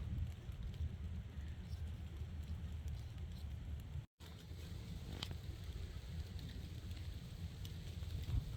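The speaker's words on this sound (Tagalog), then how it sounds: "It's raining now." Rain falling outdoors beside a stand of cattail plants, a steady, quiet hiss over a low rumble with some wind, continuing throughout apart from a brief dropout midway; no one speaks.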